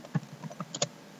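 A quick burst of keystrokes on a computer keyboard, several crisp close clicks in an uneven rhythm over a quiet background, no talking.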